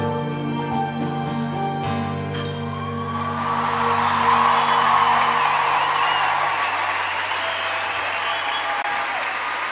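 Concert audience at a show breaks into applause as the song's final sustained notes fade, the clapping swelling into a dense, loud roar with a few whoops and holding steady to the end.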